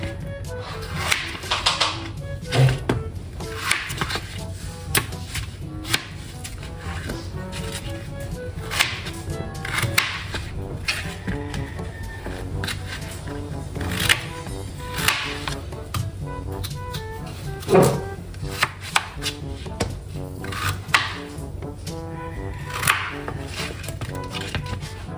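A knife chops boiled, washed potatoes on a board in sharp, irregular close strikes spread across the stretch, with faint kitchen clatter between the cuts.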